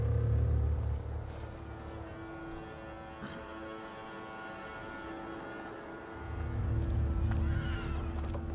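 A horse in The Thaumaturge role-playing game whinnies loudly at the start and again near the end, with hoof clip-clops and a low ambient drone between calls; no one speaks.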